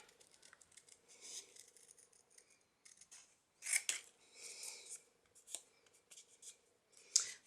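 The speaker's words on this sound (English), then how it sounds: "don't you just love straight bits when you're fussy cutting?" Scissors snip paper in careful fussy cutting for a craft project, with short crisp clicks and slicing sounds in irregular bursts, close and quiet, with no talking.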